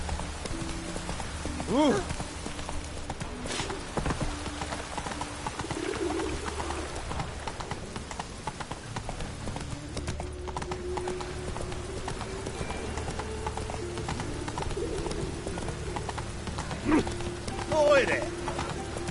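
Horse hooves clip-clopping in a PS4 video game, an uneven soft beat under ambient bird coos and chirps, with a voice heard briefly.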